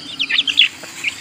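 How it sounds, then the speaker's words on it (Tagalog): Heritage chicken chicks give a quick run of high, close peeping chirps, bright and sharp over a faint low background hum. "Ito yung first batch natin ng mga sisiw guys, nasa 7 piraso to."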